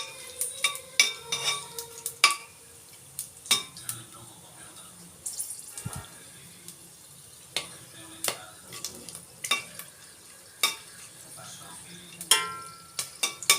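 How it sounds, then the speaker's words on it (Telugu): Whole cinnamon, shahjeera and cardamom fry in hot oil for veg fried rice, giving sparse, irregular crackles and sharp pops with occasional utensil clinks and stirring scrapes over a quiet background. "పట్ట, సాజీరా, ఇలాచి ఇవి వేసేసి కొంచెం ఇవి నూనెలో బాగా వేగితే స్మెల్ బాగా వస్తుంది."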